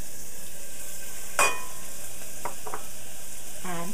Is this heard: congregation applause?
no